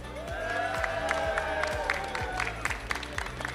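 Cheering crowd at a Pokémon GO regional championship venue in Frankfurt, a steady roar of many voices with whoops and scattered shouts, loud and continuous throughout.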